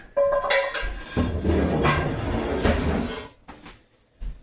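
Heavy cast iron skillets clank and scrape as they are handled and slid into a home oven, with knocks and metallic rattles across several seconds, then a final thud.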